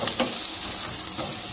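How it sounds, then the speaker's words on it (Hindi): Cabbage and onion sauté in a hot pan over high heat, a steady close sizzle with a few brief stirring scrapes, no talking. "इसमें मैं कैबेज और ये जो अनियन है ये डाल दिया है मैंने, इसको बस हल्का सा सौते करेंगे,"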